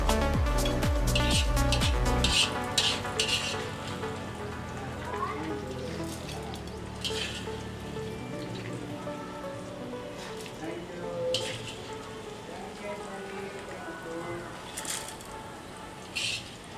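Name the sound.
cumin and mustard seeds sizzling while frying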